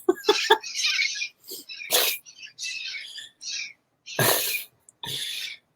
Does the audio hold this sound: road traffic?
no